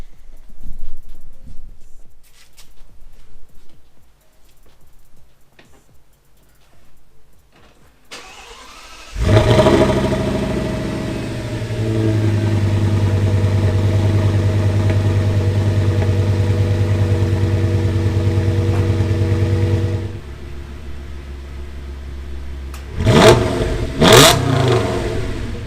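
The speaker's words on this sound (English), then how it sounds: "So anyway, on to the cold start." A V-box engine on a snowy day cranks and fires from cold, flares loud, then settles into a steady rumbling idle for about ten seconds before cutting off, followed by a couple of brief sharp revs.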